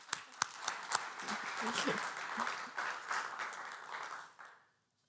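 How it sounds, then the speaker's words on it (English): An audience applauds, a few sharp claps at first building into a steady round of clapping that fades out toward the end. "rightly the audience is applauding"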